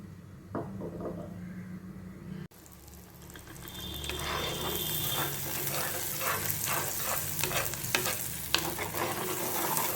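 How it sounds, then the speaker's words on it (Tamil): Ground thuthuvalai paste hits hot oil in a pan. After a quieter opening, a loud, steady sizzle builds, broken by repeated ladle-stirring scrapes and clicks, close up with no voices. "சட்டியில் எண்ணெய் போட்டுட்டு அந்த அரைச்சி பேஸ்ட்டை போட்டு நம்ம வதக்கிக்கணும்"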